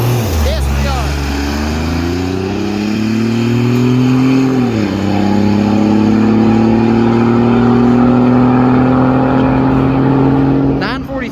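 A turbocharged big truck launches down the drag strip at Kentucky Dragway, its loud engine roaring steadily and climbing in pitch through the gears in one long, close, continuous run.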